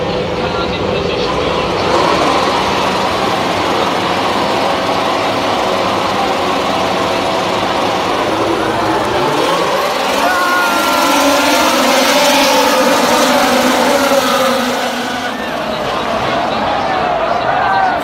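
Formula 1 race cars sit on the starting grid, a steady loud engine roar and whine holding throughout with shifting pitch as the cars build revs, a voice talking over it.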